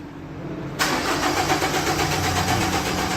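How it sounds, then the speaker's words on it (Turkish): A Renault Kangoo 1.5 dCi diesel that won't start cranks on its starter motor, a loud, steady, continuous churn kicking in abruptly after a quiet moment and running on without the engine catching. "duyuyorsunuz marşı"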